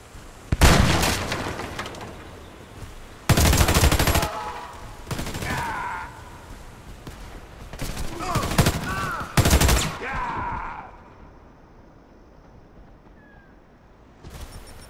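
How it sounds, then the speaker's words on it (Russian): Gunfire and grenade blasts in a ranked PvP round of the shooter game Warface: several loud, sharp bursts of shots and explosions separated by quieter gaps, with faint in-game sounds trailing off toward the end. "Кидаю гранату! Осторожно, граната!"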